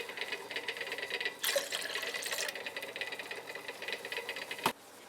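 Distilled water pours into a lab vessel during a cobalt chemistry preparation, a steady trickling, filling splash with a brief louder surge partway through and a sharp knock near the end.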